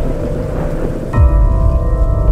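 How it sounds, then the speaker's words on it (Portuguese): Thunder in the horror video game Slender Mansion, a sudden loud rumbling crack rolling in over steady rain, booming low and close with no voices. "Trovão de merda."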